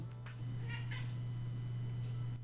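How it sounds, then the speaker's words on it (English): A cat meows a couple of times, fairly faint, over a steady low electrical hum. "And now here's Han, also a literal cat."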